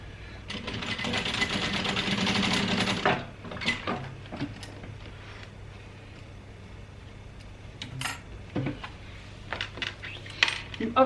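A sewing machine bastes straps in place on a crossbody bag, running in a steady close whir for about three seconds before stopping, followed by scattered handling clicks and small taps.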